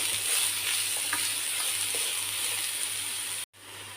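Grated vegetables sauté in a pan with an even, bright sizzle and soft stirring scrapes, the sound cutting out abruptly for a moment near the end.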